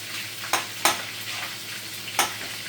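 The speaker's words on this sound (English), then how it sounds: "carrots is in the pan frying up" Carrots, onions and sweet pepper fry in a pan with a soft, steady sizzle, while a few sharp stirring scrapes cut in near the front. No one speaks.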